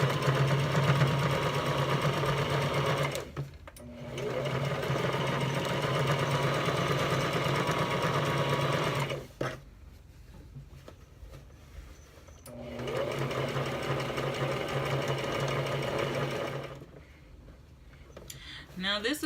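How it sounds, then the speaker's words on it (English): A sewing machine stitches fabric seams down in a steady, fast whirring run, stopping briefly twice before starting again, close and clear with no talk over it. "we are gonna sew these seams down, kind of like a stitch in the ditch."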